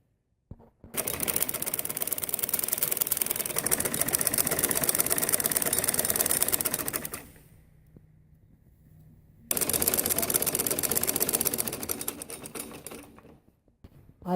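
A sewing machine stitching a salwar belt runs in a steady, loud rapid whir for about six seconds, pauses briefly, then starts again for another burst before slowing to a stop.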